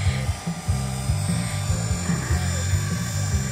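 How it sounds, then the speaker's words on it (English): An HK450 radio-controlled scale model helicopter flies close by, its small electric motor and rotor giving a loud, steady high-pitched whine that pulses slightly as the blades change pitch, with no talk. "Scale heli."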